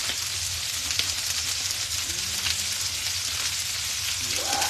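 A duck leg crackles and sizzles in a hot pan, a steady quiet frying hiss with small pops and occasional soft scraping as it is turned.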